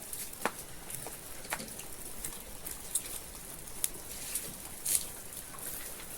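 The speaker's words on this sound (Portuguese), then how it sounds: "Não tá vendo não, tá chovendo." Rain falling at night outdoors during a family São João bonfire celebration: a faint, steady hiss with scattered sharp drip and tap sounds at irregular intervals, and no talking.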